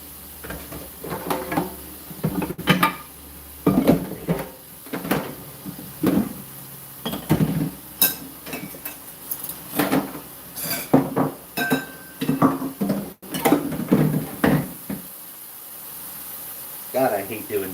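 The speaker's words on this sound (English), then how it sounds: "God, I hate doing dishes." Dishes being washed by hand at a kitchen sink, with pots, plates and cutlery clattering and clinking in repeated bursts, fairly close and loud, with water and rustling between knocks.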